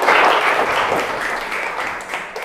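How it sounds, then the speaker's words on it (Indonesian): Applause from an audience at a school lesson or gathering, a dense steady wash of many hands clapping, loud and close, holding for a couple of seconds and tapering slightly toward the end. "Oke, tepuk tangan untuk semuanya."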